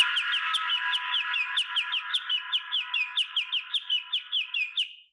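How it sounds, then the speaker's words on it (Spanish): A bird song reconstructed by inverse Fourier transform plays alone as a steady run of rapid, evenly spaced chirping notes, about two dozen in five seconds, fairly loud over a faint hiss, then stops abruptly. "Sí, se escucha bien el pajarito"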